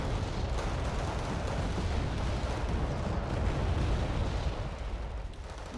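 Heavy World War II-era artillery and 90mm cannon fire in a real-time wargame, a dense continuous roar of distant booms and rumbling blasts rolling on without pause, no voices over it.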